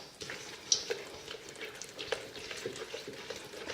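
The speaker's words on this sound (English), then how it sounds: "I'm just going to take that and stir that up till it's all combined" Sugar being stirred into a zucchini bread batter of oil and yogurt, soft close scraping and wet mixing strokes in an uneven rhythm, fairly quiet and without talk.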